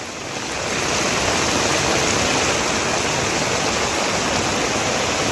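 During heavy monsoon rain in Aravalli, Gujarat, floodwater rushes through village streets as a continuous loud wash. The flow swells in the first second and then holds steady, with no voices.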